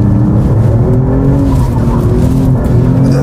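Alfa Romeo petrol car accelerating hard: a loud, close engine roar climbing steadily in pitch, continuous and dominant throughout, with road and tyre noise underneath and no voices.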